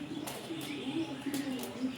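A pigeon coos softly in a short, repeated low warble. It is heard close but at low volume over faint background noise.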